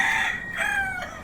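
A rooster crows once on a farm, loud and close, the call rising then trailing off in a single drawn-out burst.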